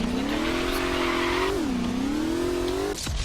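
A spawned car in Garry's Mod drives with a steady droning engine note that rises, dips and climbs again, loud and close, ending in an abrupt clunk.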